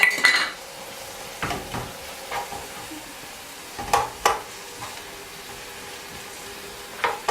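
Small cut pieces with a spoonful of salt stirred in a pot over a faint steady sizzle, with a handful of scattered scraping clinks, no talking.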